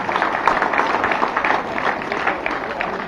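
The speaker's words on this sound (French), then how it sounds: "Donc, je vous demande d'applaudir très fort." A crowd claps steadily through a street parade of town associations in Le Carbet, honouring a veterans' association: a dense, even patter of many hands, close and continuous, with voices mixed in.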